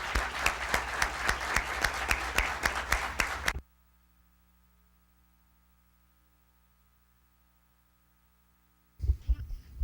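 An audience applauds Enrique Iglesias at a conference on the Ibero-American community, dense clapping for several seconds that stops abruptly, then near silence with a faint hum before a brief burst of sound returns.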